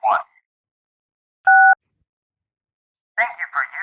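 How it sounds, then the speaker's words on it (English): A single telephone keypad tone is pressed to accept charges on a collect call from a correctional facility, one short, loud, steady two-note beep between bursts of speech. "To accept the charges, press 1."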